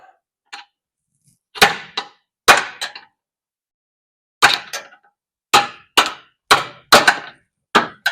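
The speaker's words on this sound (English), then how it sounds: "I just had the screwdriver up on some bolt in there and then was pushing it, prying it." Metal screwdriver prying against a bolt on a 1981 Mazda RX-7 suspension, giving a series of sharp, close knocks and scrapes in irregular bursts, about a dozen hits with short pauses between.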